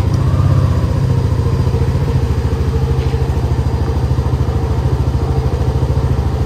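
A motorcycle engine running on Axson full synthetic 10W-40 oil idles steadily and loudly up close, a fast, even putter with slight clatter, continuing until it cuts off abruptly at the end.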